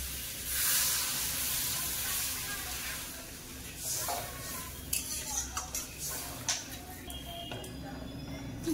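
Water poured into hot fish curry masala in a pan, producing a steady close sizzle and hiss with scattered light ticks and pops.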